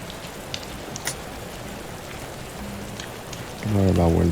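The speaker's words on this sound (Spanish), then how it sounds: "Está lloviendo y está venteando bastante fuerte." Rain patters steadily on surfaces at night in the Tatacoa Desert, Colombia, with strong wind, a dense fine hiss, faint scattered knocks, and a low humming tone rising near the end.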